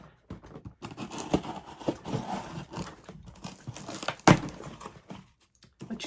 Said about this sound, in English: Take my handy dandy scissors here.